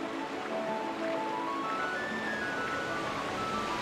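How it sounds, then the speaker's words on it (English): Rushing water from a waterfall and rapids in Zelda: Twilight Princess HD, a steady broadband wash of spray under a faint game music line, constant and fairly loud throughout. "This is a waterfall!"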